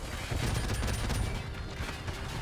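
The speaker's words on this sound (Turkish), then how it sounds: "Nereden sıkıyorlar lan? Ha gördüm. Vuruyorum vuruyorum vuruyorum hadi." Dense, continuous automatic gunfire and overlapping shots in Call of Duty: Modern Warfare Remastered, a steady fusillade of game combat heard at moderate level with no clear speech over it.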